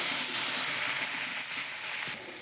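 Ground Kashmiri chilli, black pepper, cumin and turmeric sauté in a pan, giving a steady close hiss and sizzle that drops slightly near the end.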